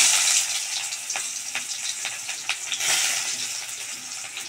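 Chopped onion sizzles in hot oil in a kadai for a Bengali prawn and okra dish with poppy seed and coconut, a close, continuous frying hiss broken by light stirring clicks.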